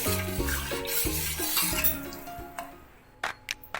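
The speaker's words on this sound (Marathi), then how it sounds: "आता हे मिश्रण आपण ढवळून घेऊया" Sugar mixture stirred in a metal pot, with scraping strokes and clinks of the spoon against the sides, close and fairly loud, thinning out into a few sharp knocks at the end.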